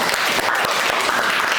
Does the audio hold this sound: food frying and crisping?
no